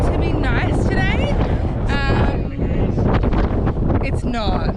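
Strong, cold wind on the Great Ocean Road in Australia buffets the microphone with a constant low rumble while a person talks over it.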